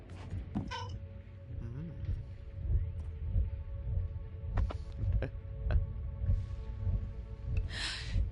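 A house cat meows a few times in a quiet room, faint and intermittent, with a low hum underneath and a person speaking occasionally.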